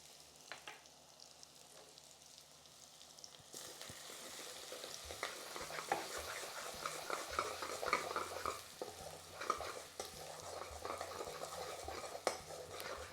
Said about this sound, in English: while they're frying down for a minute or so